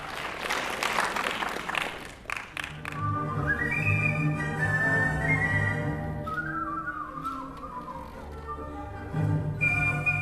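Whistler performing Brahms' Hungarian Dance No. 5 on stage, a clear melodic whistle rising and sliding through the phrase, opening over a burst of audience applause that fades as the tune carries on alone.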